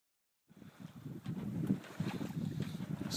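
A sailboat glides at night near Gimli, with close, rushing wind across the microphone and water washing against the hull. It begins abruptly after a brief silence and continues unbroken.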